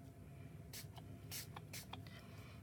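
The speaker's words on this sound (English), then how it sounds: "I'm just going to spray it with some of this shimmer spritz." Shimmer spritz sprayed onto a handmade winter card in several short, faint hissing bursts, spaced unevenly over a quiet room background.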